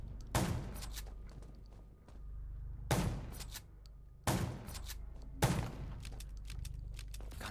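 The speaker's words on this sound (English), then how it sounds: "Gunshots will attract." Four heavy gunshot bursts ring out in the zombie-survival video game Undawn, spaced about one to two seconds apart, each a loud broadband blast with a lingering echoing tail over a low rumbling background.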